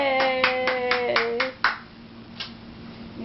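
Light hand claps from a small family group cheering a child who turned the lights off, a quick run of claps fading out under a voice and a faint hum.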